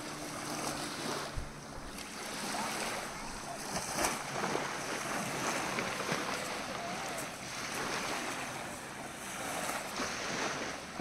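Sea waves wash against an island shore in the Lakshadweep lagoon, a steady broad surf rush with wind buffeting the microphone, continuous and fairly close with no talk.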